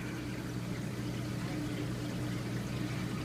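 Water pours steadily into a GFO media reactor being filled, a continuous close, full gushing stream with no pauses.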